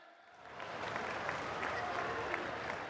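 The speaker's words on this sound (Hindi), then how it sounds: "सभी से आग्रह, जोरदार ताली बजाएं" Applause from a large crowd at a political rally swells in after a quiet start and continues as a steady, dense clatter of clapping.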